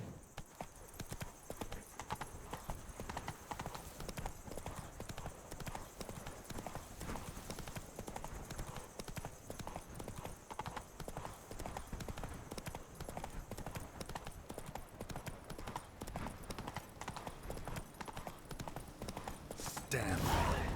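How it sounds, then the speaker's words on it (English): The horse Roach gallops in The Witcher 3: Blood and Wine, a steady fast clip-clop of hooves running nonstop with game ambience behind and a louder burst at the very end. "Run, Roach"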